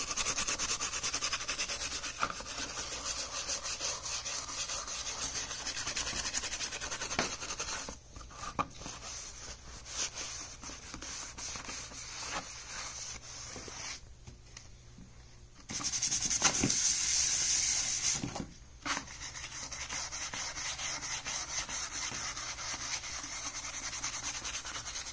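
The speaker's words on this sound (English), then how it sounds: "for the steel wool, I'm just using this as an applicator for the acrylic" Steel wool rubbed back and forth over armor to apply acrylic paint, giving a steady, close, scratchy rubbing that continues for most of the stretch, with brief pauses and no talking.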